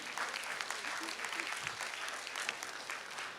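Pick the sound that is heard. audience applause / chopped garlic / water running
audience applause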